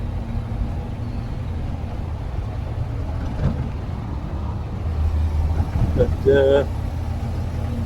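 A Thames van drives along and accelerates toward 30, a steady low engine drone running throughout and swelling slightly near the end, with someone talking over it.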